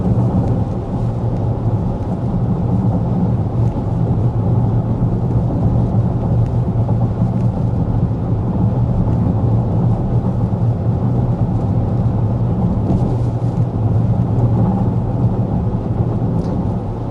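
A constant low rumble of road noise hums inside a 2024 Honda Prologue moving at 55 mph, steady and droning with no breaks or voices.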